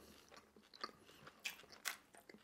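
Chewing of thick, soft Chinese rice rolls (cheung fun) in a close-mic mukbang, with several moist, chewy bites and small crunchy smacks spread across a short stretch, no talking.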